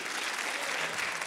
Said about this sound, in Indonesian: Berikan tepuk tangan sekali lagi.